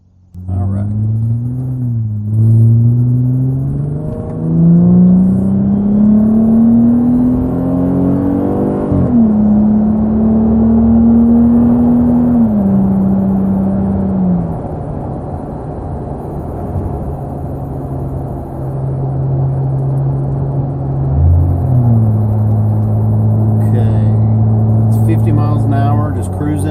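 A 2020 Jeep Gladiator Rubicon with its muffler deleted pulls hard, the exhaust drone climbing in pitch through several gear changes, loud and steady as heard from inside the cabin.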